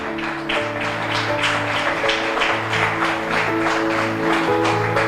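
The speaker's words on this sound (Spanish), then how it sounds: "Dele un fuerte aplauso." A church congregation claps loudly in a steady, rhythmic beat, each clap landing at even intervals over sustained keyboard or organ chords that carry on underneath.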